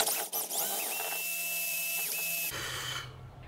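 A power drill bores straight into wood while a carpenter bee trap is built, a steady high whine with a clear motor tone and brief dips in speed, close and loud, then cutting off sharply near the end.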